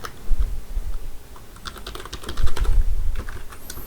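Python code being typed on a computer keyboard, a close run of quick key clicks in uneven bursts with a few heavier thumps, alone without talk.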